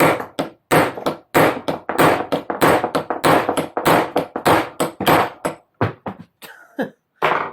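Rapid, loud metallic hammer blows in irregular bursts, some close together and some separated by short gaps, fading to a few final strikes.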